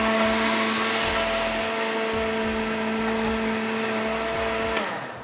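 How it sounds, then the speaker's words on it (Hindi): A kitchen blender whirs steadily, blending cold coffee with ice cream in a loud, continuous motor drone that winds down at the end. "अच्छा ठीक है, आइसक्रीम डाल के ब्लेंड।"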